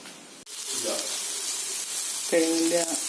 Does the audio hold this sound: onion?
yes